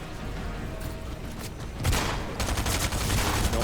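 Rapid bursts of gunfire from a Fortnite match crackle continuously, the volume jumping partway through as a louder stretch of overlapping automatic shots and broadband bangs takes over, dense and close with no talking.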